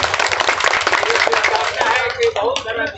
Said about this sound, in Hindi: ताली बजाने में कंजूसी।